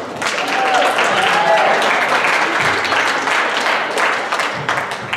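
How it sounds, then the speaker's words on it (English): A school assembly crowd gives a round of applause, sustained dense clapping that stays loud and steady for several seconds, with some voices mixed in. "Let's give him a round of applause, guys."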